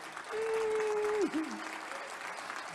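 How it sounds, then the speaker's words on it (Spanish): A church congregation applauds during a pastor's sermon, steady diffuse clapping at moderate distance with a sustained tone and a brief vocal swell over it partway through. "Ese aplauso"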